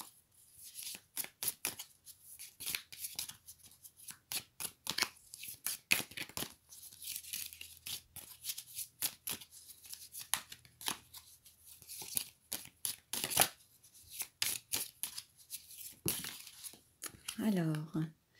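Tarot cards being shuffled by hand, a series of quick crisp slaps and riffles in irregular bursts, close and fairly quiet, with some cards spilling near the end.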